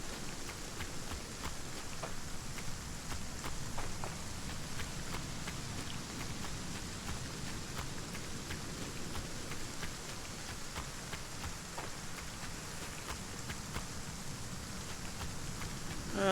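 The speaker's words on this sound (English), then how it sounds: "And it's raining again, just like real life." Rain falling steadily in the survival game Aska, a dense continuous hiss with scattered drop patters at moderate loudness, with no voices over it.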